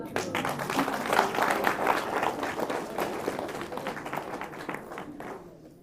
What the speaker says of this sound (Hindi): आएंगे तो ताली बजाओ भाई।